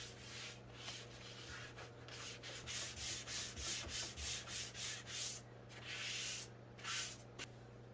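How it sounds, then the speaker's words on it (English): Steady rhythmic rubbing of a fine-grit sanding sponge on furniture before painting, a string of soft, hissing back-and-forth strokes at close range over a low background hum. "I'm doing one last sanding with that fine grit sanding sponge"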